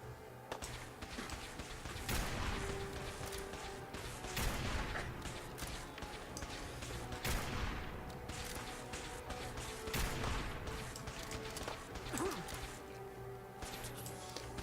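Repeated gunfire in the Fallout video game, aimed at enemies in power armor, with sharp shots and crashing impacts at irregular intervals over dense background noise.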